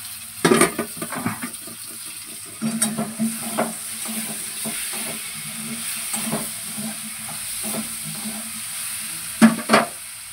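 Tomato going into onions and spices frying in a pan for a cauliflower curry, a low continuous sizzle and hiss punctuated by several knocks and scrapes of a spoon, loudest at the start and end, no voices.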